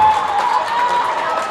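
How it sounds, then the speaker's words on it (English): Crowd noise swells at the close ending of a girls' JV basketball game against Skaneateles, with dense cheering and clapping filling the gym, loud and continuous through the short moment. "And if you can hear the crowd"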